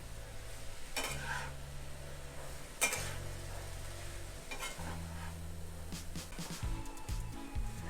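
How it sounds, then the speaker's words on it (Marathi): Schezwan sauce and tomato sauce being stirred and mixed with a spoon in a pan for Chinese bhel, giving steady scraping and sizzling-like stirring with occasional clinks of utensil against the vessel, close and continuous. "आता हे सॉस चांगले मिक्स करून घ्यायचे आहेत"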